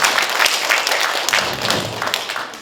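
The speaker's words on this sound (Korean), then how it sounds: "다시 한번 박수 부탁드립니다" Applause from the audience at a Korean Buddhist academic society award ceremony, a few seconds of dense clapping in a hall, steady and fairly loud with thumping hand claps.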